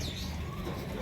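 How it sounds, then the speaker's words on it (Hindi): A pigeon gives a brief low coo, close by and soft, in a short burst of about a second with faint background noise. "अब ये कबूतर है"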